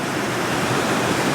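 A waterfall at a fairy bridge roars close by, a loud, unbroken rush of falling water with no voices.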